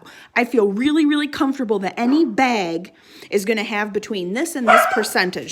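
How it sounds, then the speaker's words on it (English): Dogs bark and yip in short bursts nearby, loud and overlapping a person talking steadily throughout. "Sorry about the dogs."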